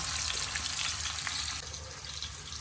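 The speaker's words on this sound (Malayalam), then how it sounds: "നമ്മുടെ അയിലക്കറി ഏകദേശം റെഡി ആയിട്ടുണ്ട് അപ്പം ഇങ്ങനെ അവിടെ കിടന്ന് ഫ്രൈ ആവുന്നുണ്ട്" Close, dense sizzling of mackerel curry frying in a pan, loud and steady, dropping slightly in level partway through; no talking.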